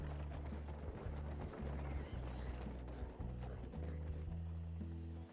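Steady clip-clop of horse hooves trotting in Red Dead Redemption 2, in an even rhythm, loud and continuous, with a low game-like mechanical hum underneath.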